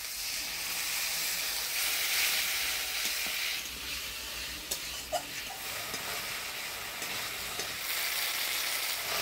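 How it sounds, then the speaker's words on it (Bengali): Masala paste of chilli paste, onion paste, turmeric and salt with a little water frying hard in a pan, a loud, steady sizzle and hiss broken by occasional spatula scrapes and clinks, with no voices. "মশলাটা ভালো করে কষাই নিলাম"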